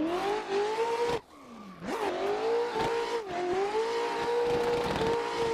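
A race car in a sim racing video game runs flat out with a loud, steady high-revving engine whine, broken by a sharp lift-off and rapid downshift before climbing again, heard close with no talking.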